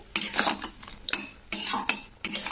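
Drumsticks (moringa stems) being stirred with ground chilli and mustard paste in a pan, giving scraping utensil clatters in short bursts with brief pauses between strokes, close by and alone.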